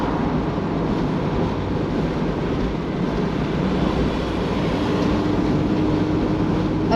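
A Mazda MX-5 ND2 cruises at 2,700 rpm in sixth gear, its engine a steady low drone blended with road and wind roar, continuous and fairly loud with no talking.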